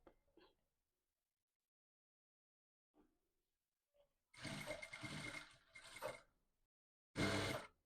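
A sewing machine stitches a waistband in two short, close bursts of whirring, separated by quiet pauses and a few faint handling clicks.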